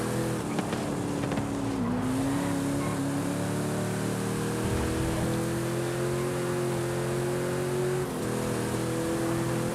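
A Mazda race car engine pulling hard in Forza Horizon 5, a steady loud drone with a rising harmonic pitch, a couple of brief gear-shift dips and continuous acceleration throughout.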